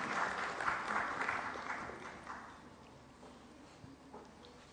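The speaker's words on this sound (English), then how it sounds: "I request all of you to welcome sir with applause" Audience applause welcoming a speaker at a science festival event, a burst of clapping that starts strong and gradually thins and fades over a few seconds, heard quietly and at a distance.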